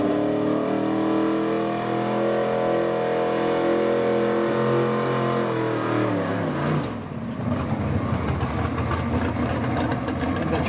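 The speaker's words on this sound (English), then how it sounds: "An 86 Chevy he calls the Misfit" A 1986 Chevy pulling truck nicknamed the Misfit roars at a truck and tractor pull, its engine revving hard and steady with rising harmonics, then breaking into a rougher, choppy roar as the run goes on, loud and close.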